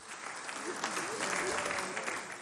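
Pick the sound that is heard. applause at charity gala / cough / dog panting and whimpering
applause at charity gala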